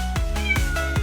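A female kitten meows close and loud in a quick, repeated series of short cries.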